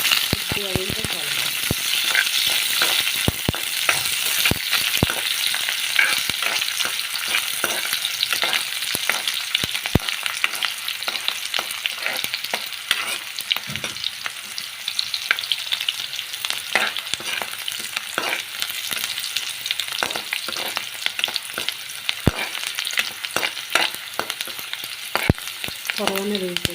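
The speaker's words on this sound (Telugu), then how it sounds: "నెక్స్ట్ ఆనియన్స్, ఇవి మంచిగా వేయించుకోవాలి." Onions frying in a pan with a steady, loud sizzle throughout, punctuated by frequent sharp crackles and occasional stirring scrapes, no talking.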